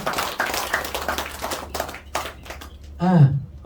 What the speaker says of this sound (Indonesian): Boleh tepuk tangan buat kita?